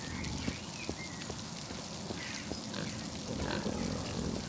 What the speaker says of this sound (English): Look at all them pigs,